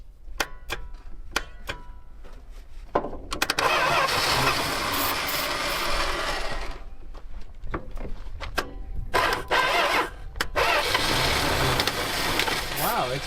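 An abandoned Chrysler car engine cranks in sharp repeated bursts, then catches into a loud, rough broadband roar that dips and surges back, close by with clicks and clatter around it.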